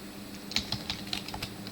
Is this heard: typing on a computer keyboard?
yes